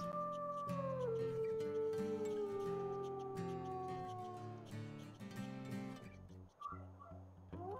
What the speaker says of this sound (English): I'm just going to howl a couple times